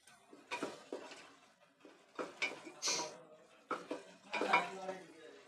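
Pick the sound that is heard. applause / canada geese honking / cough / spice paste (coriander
spice paste (coriander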